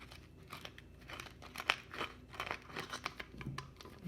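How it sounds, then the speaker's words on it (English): Scissors snip and crunch to widen a hole poked with a pin, giving a string of quiet, irregular cutting and crinkling sounds up close, with no voices. "then we'll use our scissors again to make the hole bigger."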